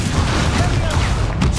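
An Incendio fire spell erupts in Hogwarts Legacy, a loud, dense rumbling blast with crackling bursts that fills the whole moment alongside game sounds.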